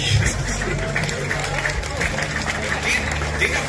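Festival stage audience applauding, a dense continuous wash of clapping and crowd noise, loud and close throughout with cheering voices mixed in.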